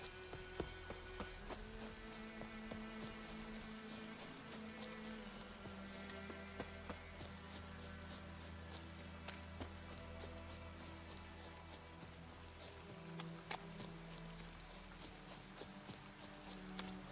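Steady clip-clop of horse hooves trotting at an even pace in The Witcher video game, fairly quiet, with a faint background hum and no voices.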